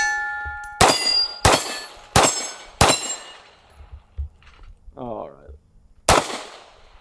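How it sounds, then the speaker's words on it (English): A small handgun loaded with hollow-point rounds fires five sharp shots at a range, four in quick succession and one more after a pause, with ringing metallic clangs and a brief spoken word. "This is a fairly small gun for how it shoots."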